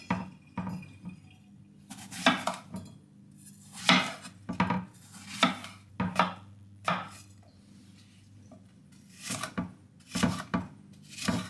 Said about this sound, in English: So I'm gonna chop some apples